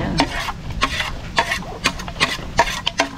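Onions and salted egg being stirred in a pan, a rhythmic series of distinct scraping strokes, roughly eight in three seconds, close and fairly loud over a low background hiss.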